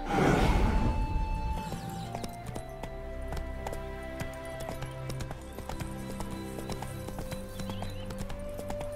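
Rhythmic horse hoofbeats clip-clop at a slow, steady pace in The Witcher 3: Hearts of Stone, with a soft swoosh at the start and gentle background music underneath.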